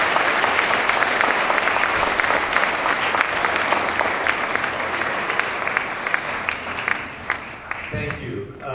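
Audience applause welcoming Dr. Paul Farmer at Portsmouth Abbey School, a dense, steady wash of many hands clapping that continues for several seconds and thins slightly near the end.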